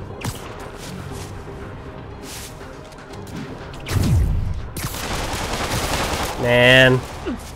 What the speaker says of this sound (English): just getting shot everywhere I go